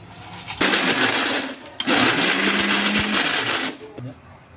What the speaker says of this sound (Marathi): तर आपण याला मिक्सरमध्ये वाटून घ्या पहिलं आपण खोबरं वाटून घेऊ